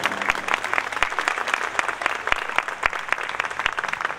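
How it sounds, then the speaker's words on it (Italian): An audience applauds a comedian from Made in Sud as he comes on at a morning charity event, sustained dense clapping with a few sharper, louder claps standing out, continuing steadily without speech. "Accogliamo con un grande applauso uno dei protagonisti di questa mattinata"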